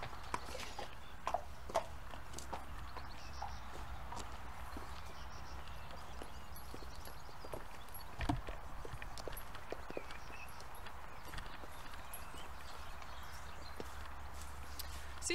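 Horse hooves walk in a slow, steady clip-clop as the horse is led out to a field, fairly close and fairly quiet, with a few sharper knocks along the way.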